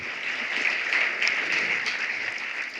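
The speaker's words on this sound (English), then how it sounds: "please, a round of applause for them" An audience applauds contestants at an EPFL science-talk final, sustained clapping from a crowded hall that holds steady throughout.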